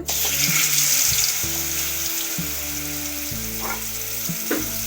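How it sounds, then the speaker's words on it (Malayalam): Tuna fish fries in a pan with a loud, steady sizzle close by, layered with running-water and stirring sounds and a faint tonal hum underneath. "ഇനി മീൻ വറക്കൂടെ ചെയ്താൽ നമുക്ക് വേഗം ചോറ് കഴിക്കാം. മീൻ വറക്കുവാണ്."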